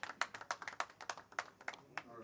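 Scattered, fairly light clapping from a small audience at a festival press conference, irregular claps in quick succession, heard close, with no talk over them.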